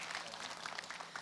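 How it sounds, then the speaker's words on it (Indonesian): Studio audience applause at a televised Islamic religious talk show, a short burst of dense, steady clapping at moderate volume with no talk over it. "Masya Allah tepuk tangannya dong."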